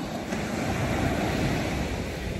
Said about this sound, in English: I'm just gonna leave these noises so that you guys can enjoy the sound of this noise.